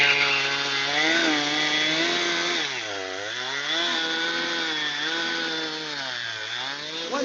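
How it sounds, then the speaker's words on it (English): A chainsaw cuts through oak, its engine droning loud and close, pitch dipping under load in two clear bogs as the bar bites into the wood, then revving back up. "That's a good chainsaw."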